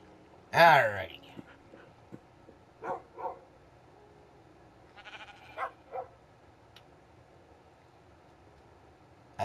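A tamed wolf pet dog in Minecraft barks once loudly near the start, followed by a few fainter, short yelps spaced through the rest of the clip against quiet game ambience.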